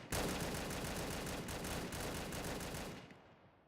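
Rapid sustained bursts from a drum gun in a video game, a loud dense rattle of automatic fire lasting about three seconds before cutting off abruptly.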